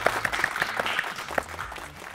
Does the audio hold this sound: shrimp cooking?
no